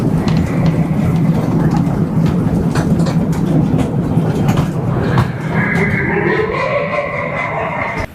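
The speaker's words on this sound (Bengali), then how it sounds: "এই ট্রেনটা কিন্তু এই পুকুরের চারপাশ দিয়ে একটা রাউন্ড করবে।" An amusement park toy train circles a pond at Dream Holiday Park, its cars rumbling and clattering close by in a continuous, fairly loud roll with no speech.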